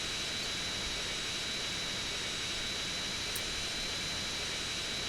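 Hovering Hydra jet from Grand Theft Auto: San Andreas, a constant hissing jet-thruster roar with a thin steady whine, unbroken and alone for several seconds.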